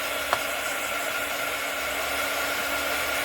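A hair dryer blows steadily on polymer clay, a loud, continuous close-up whoosh with an even hum throughout and a single faint click near the start.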